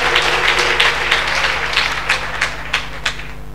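A church congregation at a service in Daloa claps in a steady, rhythmic stream of sharp hand claps, fairly close and continuous, with no voices over it.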